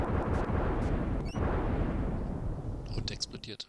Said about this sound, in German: Und explodiert.